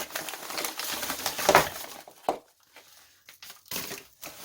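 Envelopes from an unboxed parcel for an MBK 51 XR moped are handled up close, with crinkling paper rustles and a few sharp crumpling bursts separated by pauses.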